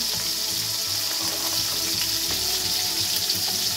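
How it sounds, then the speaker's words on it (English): Tomato sauce poured into a pot of chili and stirred in, a steady watery, sizzling wash with faint stirring scrapes, continuous and fairly close, no talking. "I'm going to pour in half of it for right now. And stir that in."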